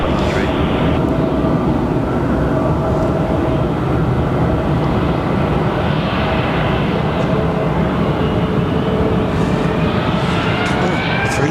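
A Spirit airliner takes off from runway 33 left at Houston's George Bush Intercontinental Airport, a loud continuous jet engine roar that holds steady throughout with broadband rumble, heard alone without talk.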